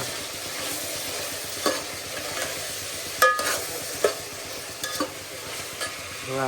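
Peas, onion, carrot and beans fry in a pan for pulao under a steady broadband sizzle, with a spoon scraping and stirring in several sharp knocks and clatters; no one talks.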